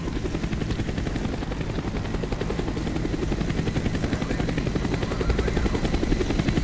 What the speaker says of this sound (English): The chopper is coming around again.